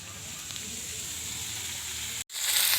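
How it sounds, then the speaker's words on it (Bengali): Potatoes frying in a pan give a soft, even sizzle that stays fairly faint and steady, then cuts off abruptly for a moment before returning slightly brighter. "তো এই যে এখন আলুটা ভাজা করতে দিয়েছি"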